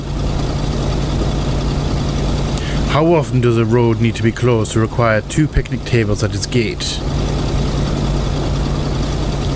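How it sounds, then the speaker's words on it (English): In the video game Kona, a car engine idles with a steady low rumble that runs through the whole clip, while someone talks over the middle part. "I don't know why he's not turning his engine off."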